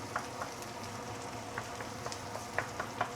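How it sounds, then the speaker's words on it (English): Fresh herbs sauteing in a pan for curry chicken, with a soft, steady sizzle and scattered light pops and crackles coming through at low volume. "Let's saute this for a minute or 2 before we continue."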